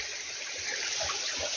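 Water streams across a damaged mountain path in earthquake-hit Jajarkot, Nepal, a continuous close gurgling and trickling rush with a few soft low thumps and no voices.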